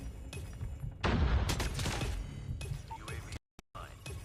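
Gunfire in the Call of Duty Mobile video game, a dense volley of shots and impacts crackling through the middle, then scattered bursts and a brief dropout, heard close and loud.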